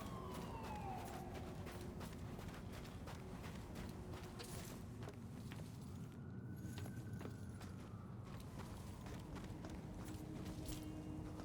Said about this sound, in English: I hear cop sirens everywhere.